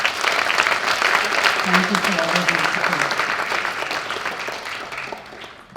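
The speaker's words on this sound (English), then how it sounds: "how about a round of applause for the families?" An audience at a high school National Honor Society induction ceremony applauds steadily, the clapping slowly fading, while a speaker talks over it.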